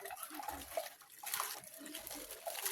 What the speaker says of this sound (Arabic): انا بحب اصفي اللبن تجنبا لاي حاجه تبقى موجوده فيه.